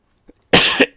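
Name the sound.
cough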